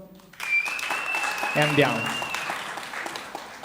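Audience at a comedy show applauds in a short burst of clapping that swells and then thins out, with voices speaking over it.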